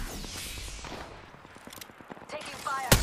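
Rapid automatic gunfire in Apex Legends, likely from a Flatline rifle in Arenas mode, sounds as a quick rattling burst of shots, with game voice lines heard alongside and a sharp loud crack near the end.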